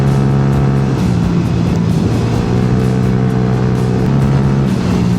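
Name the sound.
motorcycles riding fast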